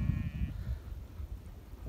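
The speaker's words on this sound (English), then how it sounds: "are all the little sheep" Sheep on coastal North Sea pasture in East Frisia bleat faintly in the distance beneath steady low wind rumble.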